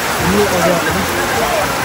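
Steady rain hisses across the whole moment at a bamboo garden in New Bataan, with voices talking faintly underneath.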